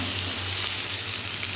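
Taro leaves go into a pan of frying garlic and onion, giving a steady close sizzle that holds evenly without pause for a moment.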